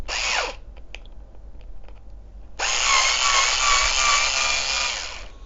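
A cordless screwdriver drives a screw with a short whir, then a long, loud and close motor whine that lasts about three seconds before winding down.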